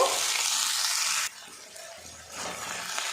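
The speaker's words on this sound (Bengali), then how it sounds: "মশলার সাথে সয়াবিন কিমাটা কিন্তু একটু নাড়াচাড়া করে নেব" Minced soybean stirred into frying spice masala makes a close sizzle and stir for over a second, then drops to a quieter hiss before a softer sizzling swell returns. No one speaks.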